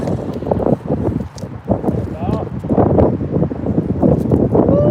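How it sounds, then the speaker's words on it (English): Rough, buffeting rumble of wind hitting the microphone, mixed with a person talking briefly over the noise. "it's windy."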